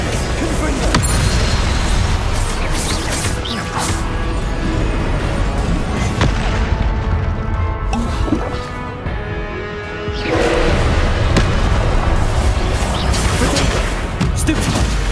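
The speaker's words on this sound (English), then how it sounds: "Confringo!" Dense, continuous booming blasts and crackling bursts from Confringo fire spells in the video game Hogwarts Legacy, loud and layered with combat noise, briefly thinning in the middle before surging again; shouted spell names come through.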